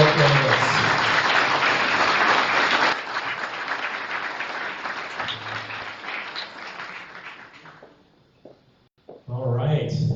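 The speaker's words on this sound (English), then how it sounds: "Round of applause for our mayoral candidates." An audience at a candidate forum in Gahanna applauding the mayoral candidates, with steady clapping that fades over several seconds and a brief pause before a voice picks up again.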